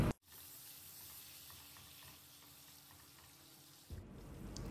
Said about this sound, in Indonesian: Lalu saya goreng ayam yang sudah direbus tadi hingga agak kecoklatan.